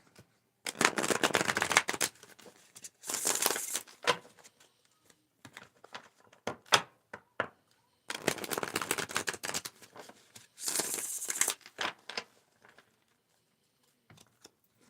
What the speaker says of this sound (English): I need to shuffle a couple of more times